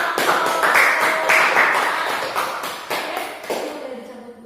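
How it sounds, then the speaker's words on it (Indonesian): An audience claps after a group presentation: a burst of clapping that starts loud and thins out, with individual claps and taps growing sparser and quieter toward the end. "Oke, kasih tepuk tangan untuk"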